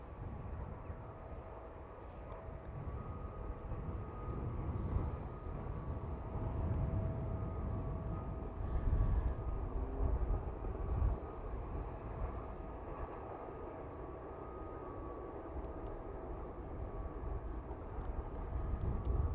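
A cargo or passenger jet rolls out after landing on runway 27 at East Midlands Airport, a steady, distant low engine rumble and roar holding evenly throughout with no voices.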